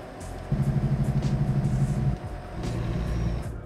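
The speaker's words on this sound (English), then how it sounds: "B is your engine brake. So you know that loud brake you hear in residential zones sometimes" A truck's engine brake in the Truck Sim video game lets out a loud, rapid pulsing drone for about a second and a half, then drops to a lower, steadier engine rumble.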